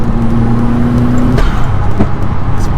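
Inside a remapped Audi S3 on a night drive, the engine drones loud and close under load while pulling in fourth gear, with a tone that drops as a shift happens partway through.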